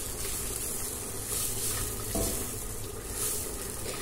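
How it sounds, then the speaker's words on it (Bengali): Rice frying in a pan for Bangladeshi bhuna khichuri, a steady close sizzle with soft stirring scrapes and a brief louder clatter midway. "তো এখন আমি চালটা একটু ভালো করে ভাজা ভাজা করে নেব"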